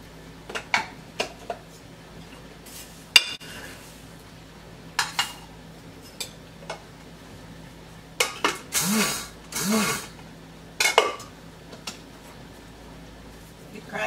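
Sesame seeds are ground for gomasio in an intermittent series of short scraping, gritty bursts with brief gaps, some longer rasping strokes near the middle, fairly close and moderately loud.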